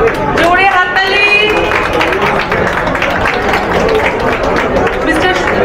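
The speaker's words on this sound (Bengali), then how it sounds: "জোরে হাততালি।" An audience claps loudly and steadily throughout, a dense crowd applause with some cheering voices mixed in, close and continuous.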